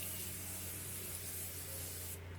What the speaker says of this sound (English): setting spray, don't forget your setting spray